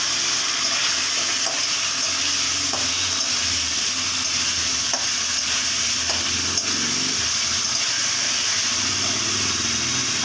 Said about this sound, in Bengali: এবার আমি আগের থেকে ভেজে রাখা পটলগুলো দিয়ে দিচ্ছি। দুখানা কাঁচা লঙ্কা, দিয়ে দিচ্ছি 2টো তেজপাতা